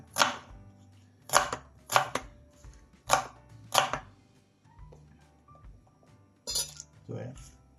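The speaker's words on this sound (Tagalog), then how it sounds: "tapos na tayo maghiwa ng sibuyas" Knife chopping onions on a board in a kitchen, a series of sharp close thuds in an uneven rhythm with a few light clinks between them.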